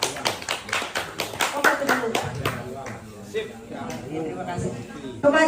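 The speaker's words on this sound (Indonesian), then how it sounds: "terima kasih ya, tepuk tangannya dong" Audience applause at a community event for a Hindu organisation in South Kalimantan, a burst of clapping from a group that thins out as a voice speaks over it.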